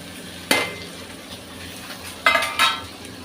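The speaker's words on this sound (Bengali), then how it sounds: "এবারে সবজিগুলো এখানে অ্যাড করে দিচ্ছি আমি।" Fried vegetables are tipped into yogurt in a pan and stirred, with one loud utensil scrape followed by two more clattering strokes, close and distinct against a quiet background.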